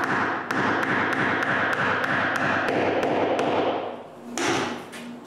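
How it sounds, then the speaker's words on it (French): A metal nut is hammered into a hole in a wooden handle: a steady series of about a dozen sharp, evenly spaced taps close up, followed by a brief scraping rustle at the end. "je force un écrou dans le trou"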